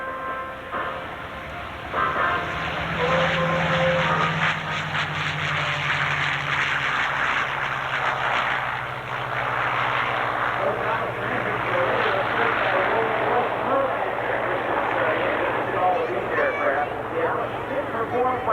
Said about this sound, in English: Engines as the P-51 Mustangs take to the air.